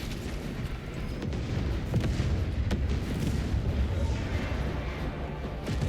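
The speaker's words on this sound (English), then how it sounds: "Huge melt-a-bomb." A huge melta bomb detonates in the Space Marine 2 video game, a dense, sustained low rumble of explosive booms and gunfire-like blasts filling the whole stretch at steady loudness.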